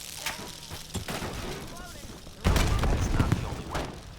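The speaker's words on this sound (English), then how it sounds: "Inbound grenade." A grenade blows up in Call of Duty Black Ops 7, a loud, close burst with crackling debris arriving midway through, after scattered gunfire-like snaps and a voice speaking earlier.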